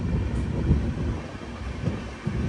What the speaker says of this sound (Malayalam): ട്രെയിൻ ഇപ്പം സ്പീഡ് കുറച്ചിട്ടാണ് ഉള്ളത്.